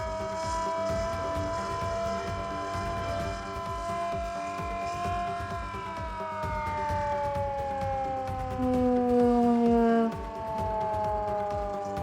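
A flood warning siren near the Ravi river in Lahore gives a long steady tone that slowly drops in pitch, with faint background noise and a brief louder low hum near the end.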